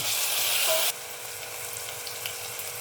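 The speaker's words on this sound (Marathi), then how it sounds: "एक चमचा आलं लसूणची पेस्ट आणि एक मध्यम आकाराचा टोमॅटो सगळं परतून घेऊया" Onion, ginger-garlic paste and tomato sautéing in a pan for a black-eyed bean curry, a loud steady sizzle that drops suddenly to a quieter, even frying hiss partway through, with no talk.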